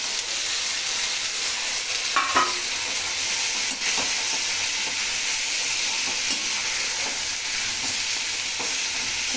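Pointed gourd, Malabar spinach stems and potatoes fry in a pan with a loud, continuous hissing sizzle, while a few brief scraping clatters from stirring break through near the start.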